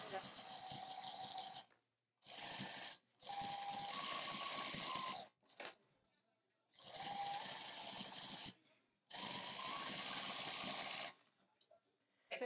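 A domestic sewing machine runs in steady motor bursts while stitching along drawn lines on a small quilt, several runs of a few seconds each separated by brief pauses.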